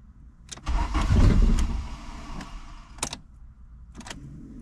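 An Mk2 Jetta cranks and struggles to start: a starter whirs and the engine churns in a loud surge that fades, with sharp clicks and knocks afterward, close up.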